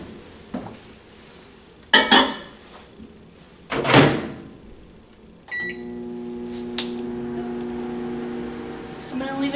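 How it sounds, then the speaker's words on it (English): Clattering dishes and a door clunk shut, then a microwave oven heating mac and cheese in a mug starts up with a beep and settles into a steady low hum. "So I'm going to toss it in the microwave again for a few seconds."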